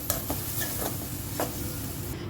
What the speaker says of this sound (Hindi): तो अब इसमें डालते हैं दाल, अच्छे से मिक्स करें